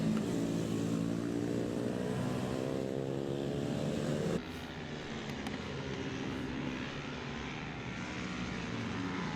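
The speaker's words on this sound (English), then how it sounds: "we've got some exciting midfield battles here in this big group of riders in the pit bike 140." Pit bike 140 motorcycles racing in a big group on a kart track at Whilton Mill, their engines a loud, continuous whine with rising harmonic sweeps as bikes pass, easing to a steadier mixed drone of distant machines.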